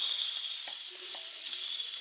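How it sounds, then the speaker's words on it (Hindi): Arvi gosht, taro root with meat, frying in a pan over medium flame: a soft, steady sizzle with occasional stirring scrapes, fairly quiet and with no talking. "अब मैं मीडियम पे कर रही हूँ और इसे फ्राई करूँगी"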